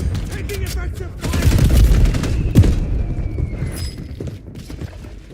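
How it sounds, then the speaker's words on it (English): Gunfire in the Warzone battle royale video game: bursts of rapid shots and heavy booms rattle close and loud, with a sharp crack midway before the volleys thin into scattered distant fire. "Taking effective fire!"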